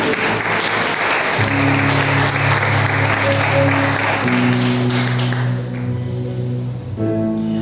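Congregation applauding during a church service, a dense wash of clapping sustained for several seconds while organ or keyboard tones hold underneath, fading toward the end.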